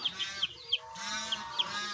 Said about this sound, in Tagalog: Mga kamanok.